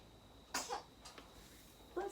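A single sharp sneeze during a yoga class, a brief burst near the start followed by a smaller second burst, then a fainter third sound a moment later in a quiet room.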